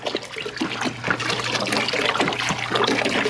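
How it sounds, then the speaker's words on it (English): Plain tap water pours steadily into the tank of an ultrasonic cleaner, a continuous splashing trickle at close range with no talk over it, mixing into a cleaning solution for a Jeep throttle body. "Plain old tap water to even out the mix."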